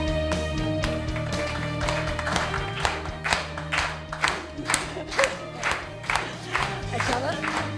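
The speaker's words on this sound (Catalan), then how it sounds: "Això d'aplaudir la música del programa" A studio audience claps along in rhythm to a radio programme's music during a live broadcast, steady beats over music, with voices and crowd noise mixed in.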